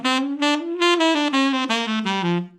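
A reed instrument plays a short run of distinct notes, each crisply tongued with the tip of the tongue, for an articulation lesson; steady, close and clear, heard alone with no talking.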